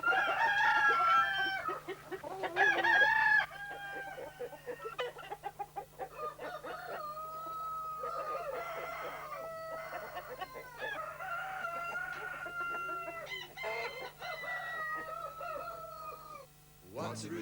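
A rooster crows and clucks repeatedly in a run of bright, warbling calls over a low steady hum, fairly close and continuing for most of the stretch.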